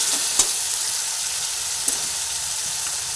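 Tomatoes and spices fry together in a hot pan for a green pea dish, giving a steady close sizzle with a few sharp clicks of stirring and no voices.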